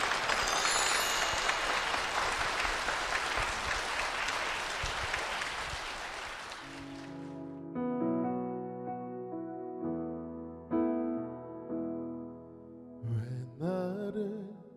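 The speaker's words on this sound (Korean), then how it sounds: "여러분 힘찬 축복의 박수 부탁드립니다" A church congregation applauds at length, a dense loud patter of many hands lasting several seconds before fading as a solo piano worship melody begins alone.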